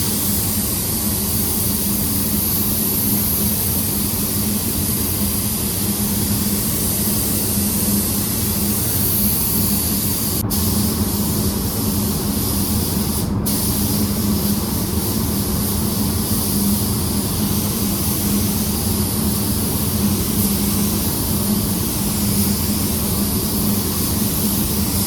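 Compressed air blowing steadily to dry water-based silver paint on a car panel, a continuous loud broadband rush without pause, with two brief sharp ticks in the middle.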